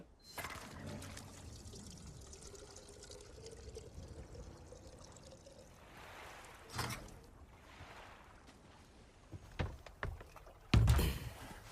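Water sloshing and trickling steadily from a boat moving through water in the video game Resident Evil 4, with a few louder splashes near the end.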